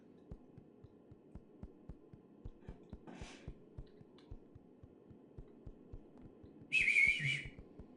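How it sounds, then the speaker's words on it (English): A person whistles one short, bright, sustained note near the end, heard over a steady rhythmic thumping like a heartbeat in the horror game Huntsman. "trying to whistle."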